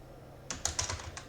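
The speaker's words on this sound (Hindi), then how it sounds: "तो यहाँ पे टाइप कर देते हैं" Close keystrokes on a computer keyboard start after a short quiet lead-in, a brief run of quick, light clicks.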